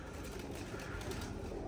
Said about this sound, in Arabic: شوف البرج مقفل وايد طيور